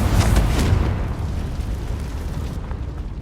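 A Confringo blasting spell detonating in the Hogwarts Legacy video game: one loud, deep, rumbling blast right up close that rolls on and slowly fades over a few seconds.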